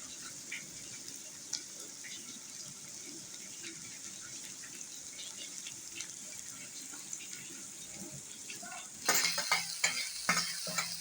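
Onions sizzle steadily in a pan as they fry until browned, a constant crackling hiss with occasional stirring clinks that grow louder and busier toward the end.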